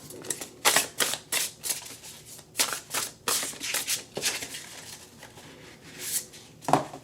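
Tarot cards are shuffled in quick, crisp bursts of riffling and flicking, close up and irregular, with no voices.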